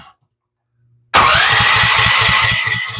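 An engine starts abruptly indoors after near silence, catching at once and settling into a loud, steady, rhythmic idle, fitted with a 40 Series primary clutch.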